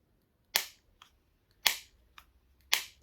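Xiaomi Mi Buds 3T Pro earbud case hinge snapping shut three times in a steady rhythm, sharp close clicks with faint softer ticks between them in a quiet room.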